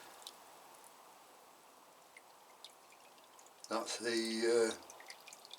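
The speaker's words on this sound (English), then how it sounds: "we'll just water these that we've just repotted" Water pours and drips softly onto freshly repotted orchids in a greenhouse, a faint, steady trickle, with a person briefly speaking near the end.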